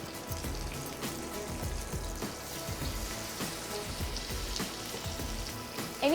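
Crumbed chicken breasts stuffed with Fontina cheese fry in hot oil, giving a steady crackling sizzle with dense popping spatter that runs throughout, fairly close and alone.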